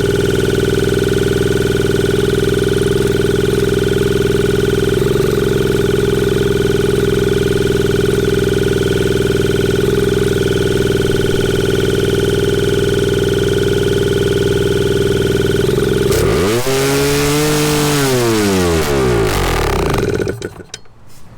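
A 1981 Suzuki TS 250 motorcycle engine runs loudly and steadily close by, then revs up sharply with rising and falling pitch before abruptly cutting out.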